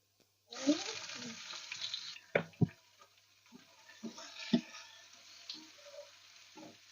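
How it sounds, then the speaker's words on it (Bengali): Onions hit a hot pan with a loud initial sizzle that settles into quieter frying, punctuated by a few sharp clanks and stirring knocks; a voice is faintly present. "পেঁয়াজটা লাল লাল করে ভেজে নেবো।"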